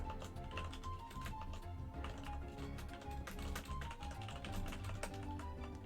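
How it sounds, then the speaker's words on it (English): Typing on a computer keyboard, a fast, continuous run of soft, close clicks and taps with a steady low background hum. "Sorry if my typing's very loud."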